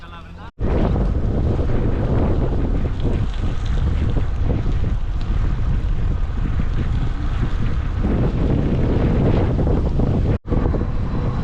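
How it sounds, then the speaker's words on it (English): Strong morning wind roars steadily against the microphone on a road in Greece during bike touring, a constant low rumble with buffeting that drops out briefly twice. "It's a bit windy this morning"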